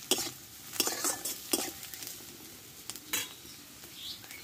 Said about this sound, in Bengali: দিয়ে একটু নেড়ে নেবো